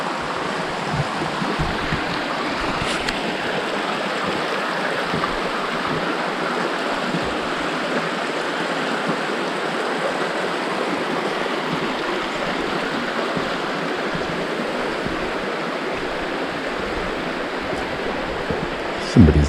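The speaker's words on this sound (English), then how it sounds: "Here's a beautiful brook." A brook on the Long Trail flows steadily in the woods, a broad, even rushing of water that stays constant throughout with no break.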